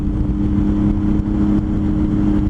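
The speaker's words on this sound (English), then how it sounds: "I'm kind of twisting into it a little more to hear the exhaust note" A Triumph Tiger 800 motorcycle engine drones with a steady, deep exhaust note, held at a constant throttle close by without clear revving peaks.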